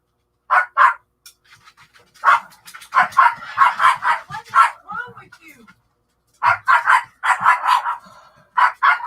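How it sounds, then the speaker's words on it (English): A dog barks repeatedly in quick bursts close by, with short pauses between volleys. "She's barking at my husband taking out one of our dogs."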